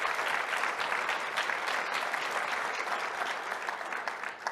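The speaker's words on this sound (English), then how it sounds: "Please give her a round of applause." An audience at a Salesforce AI Day event applauds Julie Sweet with steady, dense clapping that holds at an even level for several seconds and thins slightly at the end.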